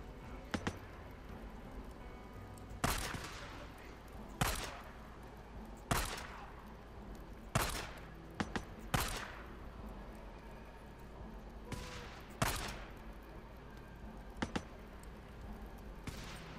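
Gunshots ring out in Days Gone, a zombie survival game, as a spaced series of sharp single cracks over a quiet background, some close together in pairs.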